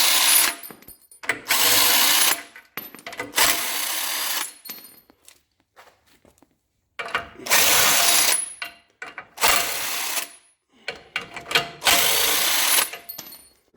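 A power tool, likely a drill or impact driver, backs bolts out of the shipping crate for a Jinma 254 tractor backhoe: several loud whirring bursts of one to two seconds each, split by short quiet pauses and clatter, heard up close with no talk.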